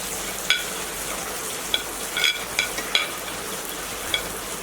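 Quarter teaspoon of cumin seeds sautéing in a pan gives a steady, close sizzle with a few light clicks and pops scattered throughout.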